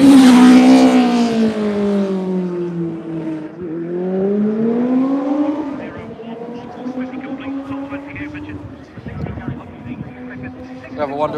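Racing motorcycles roar past at a Pre TT Classic road race corner, a loud engine note sweeping down in pitch as the bikes pass close, then fading into quieter engine drone in the distance.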